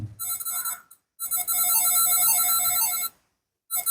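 A homemade landline phone circuit plays a melody ringtone through a small speaker: two loud, bright bursts with a short silence between them, then a third burst starting at the end, with no voices.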